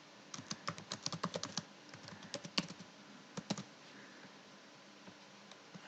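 Someone types a welcome message on a computer keyboard: quick, close bursts of crisp key clicks in clusters, then sparser taps with short pauses, with no talking.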